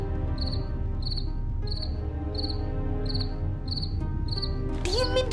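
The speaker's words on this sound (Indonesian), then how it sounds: "Diemin tuh jangkrik." A cricket chirps in evenly spaced, bright bursts, about seven in a row, over a dense, low background of music and ambience, with a brief rising tone at the end.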